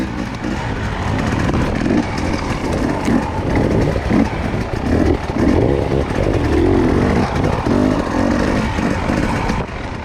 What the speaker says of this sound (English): he's right behind Spenser Wilton, 117 on the gas